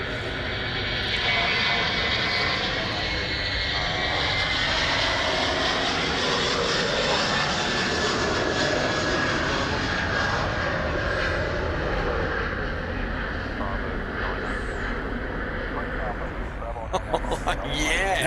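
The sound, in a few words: Qantas Airbus A330 jet taking off at Sydney Airport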